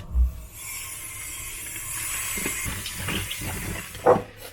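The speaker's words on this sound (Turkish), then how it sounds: "Şimdi güzelce yıkıyorum ve süzüyorum." Cauliflower is rinsed and drained under running tap water in a home kitchen, a steady hiss of flowing water with soft splashes and a clunk near the start and end.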